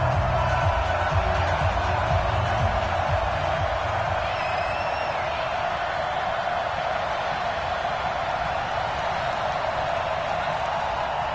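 A stadium crowd roars in an EA Sports American football game before a Kansas City Chiefs matchup, a steady wash of cheering that holds evenly at moderate loudness, with a brief low murmur early on.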